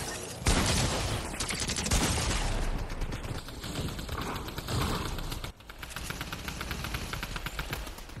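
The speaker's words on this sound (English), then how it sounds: "there's like five people shooting at me" Several players fire guns at once in a multiplayer shooter video game. Dense, rapid volleys rattle continuously and loudly, easing slightly near the end.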